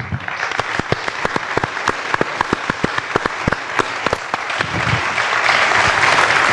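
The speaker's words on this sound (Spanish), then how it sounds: "Despedirles con un fuerte aplauso." Clapping from an audience closing a public dialogue event with a former president and an ambassador, starting as sharp separate claps that thicken into a loud, sustained ovation.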